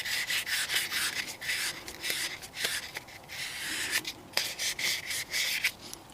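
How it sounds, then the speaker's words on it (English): Wet-and-dry sandpaper rubs light rust spots off a motorcycle suspension linkage pin on a Triumph Speed Triple, a steady close hiss of back-and-forth abrasive strokes with brief scratchy accents. "Using a little bit of wet and dry, I'm just going to rub some of the slight rust spots"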